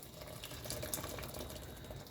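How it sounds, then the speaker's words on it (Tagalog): Water pours into a pot of vegetable soup, a faint, steady rushing trickle that carries on without a break and without any voices. "lalagyan ko po siya ng tubig"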